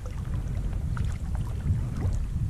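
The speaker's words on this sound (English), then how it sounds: "can hear the first sound of the swell on the reefs out there" Ocean swell washes over offshore reefs, heard as a low continuous rushing roar with some wind noise and small splashes close by from a sea kayak, steady throughout and without voices.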